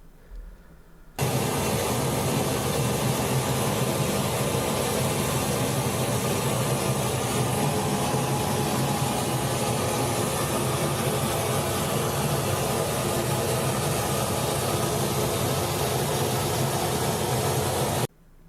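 A dense, harsh wall of noise music roars continuously at steady loudness, grinding and rumbling without letup, after a brief quieter start.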